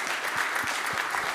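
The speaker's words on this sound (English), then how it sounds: "Big round of applause for you" Brief applause from the audience at an airspace and operational efficiency conference session, a steady, moderately distant patter of clapping.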